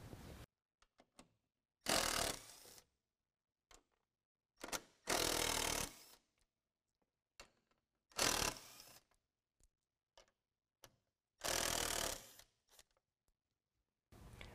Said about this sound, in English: We're going to take those out with a 10mm.